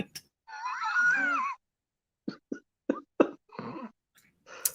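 A throaty cough-like burst with a rough, groaning tone, followed by several short, sharp bursts in quick succession, close and fairly loud, with silence between them.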